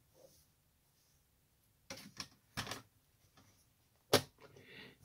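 A paper trimmer slices through cardstock in a few short, sharp swipes and clacks separated by quiet pauses, close by.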